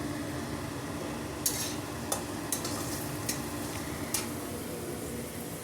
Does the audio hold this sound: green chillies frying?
yes